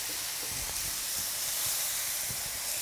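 Beef rib steaks being turned in a hot pan, a steady loud sizzling hiss with small crackles throughout, close and without talk.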